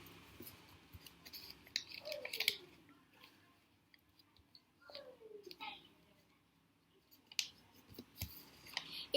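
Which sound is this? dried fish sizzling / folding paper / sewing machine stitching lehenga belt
folding paper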